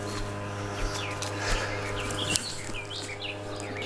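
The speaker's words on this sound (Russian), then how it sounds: "Птицы поют." Several birds sing and chirp in a pine forest beside a river, scattered calls overlapping at moderate distance over a steady low background hum.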